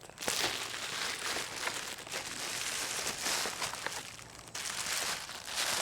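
Packing paper crinkles and rustles steadily while a potted plant is unboxed, with dense close crackling bursts and brief pauses throughout.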